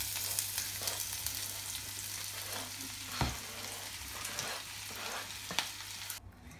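Onions, green chillies and curry leaves sizzling and frying in hot oil in a South Indian kitchen, a steady crackling hiss broken by a few sharp stirring scrapes, heard close with no voices.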